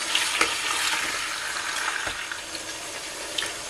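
Pork sears in a pot, giving a continuous hissing sizzle with a few soft scraping knocks from stirring, close by and with no voices.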